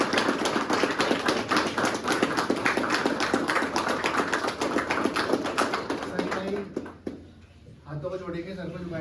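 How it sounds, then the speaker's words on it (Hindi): An audience claps loudly for a man named Sanjay at a recovery-birthday gathering, a dense, rhythmic burst of applause that fades out near the end and gives way to quiet talk. "इसलिए जोरदार तालियां"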